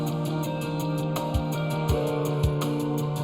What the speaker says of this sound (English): Okay, so with the drum break,